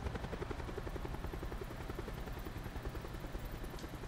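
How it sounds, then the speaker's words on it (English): Helicopter in Call of Duty Blackout, a continuous rhythmic rotor thump and engine drone heard from inside or close by, steady and fairly quiet with no talk. "We keep this chopper in good health."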